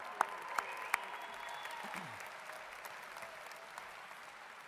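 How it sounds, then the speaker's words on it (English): A commencement audience at a university athletics spring graduation applauds the graduates, three sharp claps standing out at the start over a steady, moderately distant wash of clapping that holds throughout. "let's all give our graduates another very warm and loud round of applause"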